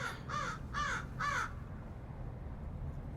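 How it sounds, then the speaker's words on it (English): Three loud, harsh caws from a large bird, evenly spaced, ringing out close overhead, then fading into quiet outdoor ambience. "It's a big ass bird up there. Y'all heard that?"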